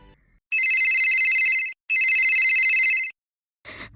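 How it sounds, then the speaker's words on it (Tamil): Electronic phone ringtone sounding in two long, even bursts about a second each, loud and close, followed by a short clatter at the end. "ஃபோன் அடிக்குது."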